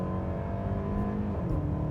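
The four-cylinder engine of a 2025 Mercedes-Benz GLE 450e plug-in hybrid SUV drones and rises in pitch under acceleration, a steady, moderately loud whir heard from inside the cabin.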